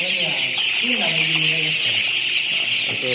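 Chickens cluck and chatter close by in a poultry farm over a steady high-pitched hum, with occasional longer calls rising above the flock; a voice speaks briefly underneath.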